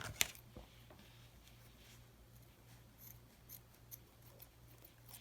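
Scissors snipping through crochet yarn in a quiet room, one sharp close cut at the start followed by faint light rustling and handling sounds.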